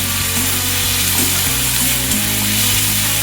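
Onions frying in a pan with a pinch of salt, a loud continuous sizzle with scraping stir strokes and low mechanical hum underneath, no voices.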